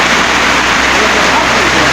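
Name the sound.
heavy rain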